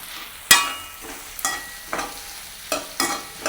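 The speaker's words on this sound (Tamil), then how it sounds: "அவிச்சு வச்ச உருளைக்கிழங்கு இந்த மாதிரி அதுவும் கொஞ்சம் மசிச்சு விடலாம்" A spoon stirs and mashes boiled potatoes into a sautéed curry filling in a pan, producing about five sharp scraping knocks spaced roughly half a second apart over a soft background sizzle.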